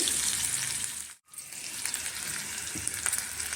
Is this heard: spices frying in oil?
yes